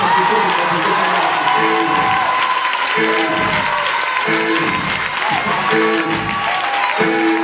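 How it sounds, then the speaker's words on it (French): A church congregation applauds and cheers for the Holy Spirit during a seminar service, a loud crowd roar over a repeating musical tone pattern, with voices calling out throughout. "Quelqu'un donne une acclamation au Saint-Esprit."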